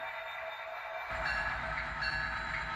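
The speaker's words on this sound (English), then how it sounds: "Let's get this train moving." A model railroad train runs on its track during a switching session, giving a steady mechanical rumble and hum that grows louder partway through, with faint high squeals, and no talking.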